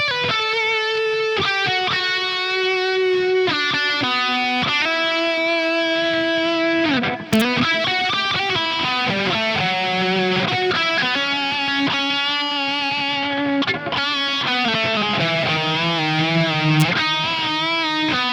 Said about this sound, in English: That is a really nice sounding delay that goes.